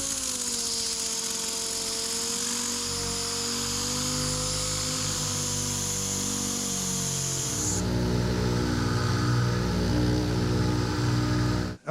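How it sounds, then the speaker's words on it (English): A dual-action sander with 80-grit paper sands a car bumper, whirring steadily with a high whine and buzzing rumble, its tone shifting as it works, loud and close with no talking. "I'm gonna take some 80 grit on a DA, sand over this"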